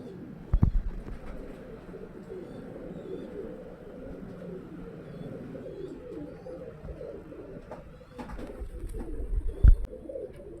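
A male Girebaaz pigeon coos softly and repeatedly, low murmuring calls close by over a quiet background, with a couple of brief knocks and bumps.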